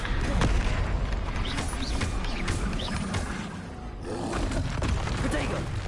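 Dense, continuous roar of explosion spells and magical combat in the Hogwarts Legacy video game, loud booms and crackling bursts layered over one another for the whole stretch with no quiet gaps.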